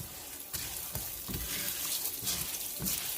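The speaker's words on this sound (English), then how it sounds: "just like frying it a little bit" Steady sizzling and crackling of rice frying in hot oil for Mexican rice, with occasional scraping stirs breaking through the hiss.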